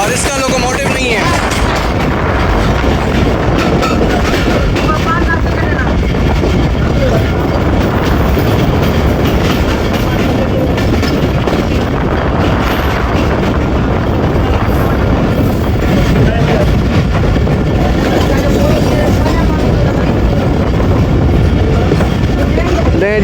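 A freight train rumbles past on the railway with loud, continuous rolling noise and rhythmic clatter of wagons on the track, and a voice is faintly present beneath it.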